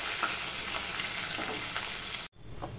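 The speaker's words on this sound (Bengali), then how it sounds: "দেখো পেঁয়াজটা লাল লাল করে ভাজা হয়ে গেছে" Chopped onion, garlic and dried red chilli fry in hot oil with whole garam masala spices. The sizzle is steady and close, with faint stirring scrapes, and it cuts off sharply near the end.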